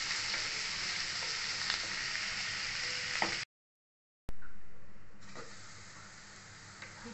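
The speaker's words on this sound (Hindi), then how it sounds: "प्याज को अच्छे से भूनेंगे।" Onions frying in a pan for egg bhurji masala make a loud, steady sizzle that cuts out for about a second, then returns and gradually fades a little.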